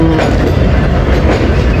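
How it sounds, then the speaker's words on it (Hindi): Hazara Express train pulling into platform 3 at Rawalpindi railway station, a loud continuous low rumble of rolling coaches with steady rail clatter throughout, close by. "12 डाउन हज़ारा एक्सप्रेस का अराइवल रावलपिंडी रेलवे स्टेशन की प्लेटफार्म नंबर 3 पे"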